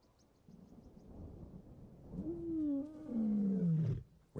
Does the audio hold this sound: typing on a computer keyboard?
no